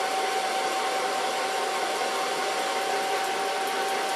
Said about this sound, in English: now I'm going to blow dry it with my fingers